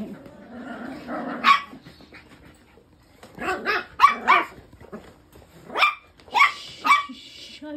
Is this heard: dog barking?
yes